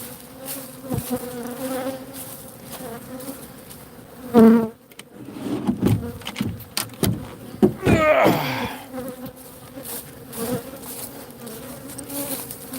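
Honeybees buzz steadily around opened hives, a continuous close drone with louder passes and bumps of handling noise in the middle.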